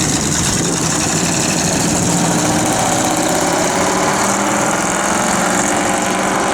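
1964 Buick Riviera engine idling in cold weather, a steady, loud, even rumble with dense broadband hiss, continuous throughout with no talk.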